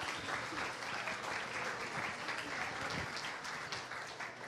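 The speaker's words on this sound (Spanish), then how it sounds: "Un fuerte aplauso, por favor." Audience at a youth forum of a social summit applauding steadily and densely throughout, a fairly faint, even wash of clapping with no talk over it.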